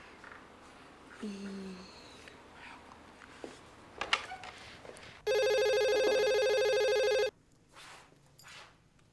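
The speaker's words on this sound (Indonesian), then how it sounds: "Kamu coba telepon ke rumahnya Tiara dan bilang kamu tuannya" A telephone rings with one continuous loud electronic trill lasting about two seconds midway, surrounded by quiet indoor room sounds and small clicks.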